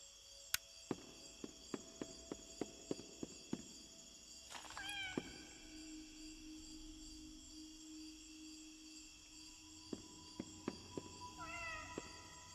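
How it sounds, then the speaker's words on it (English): A cat in the video game Indigo Park meows repeatedly, close and clear, over soft clicking footsteps and sustained electronic game tones. "This bro's about to meow at me the entire time I'm here."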